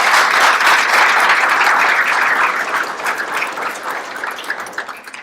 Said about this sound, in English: I'd like everybody to please give her a round of applause.